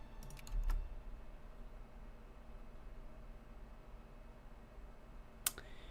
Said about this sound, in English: Typing Zhazhuao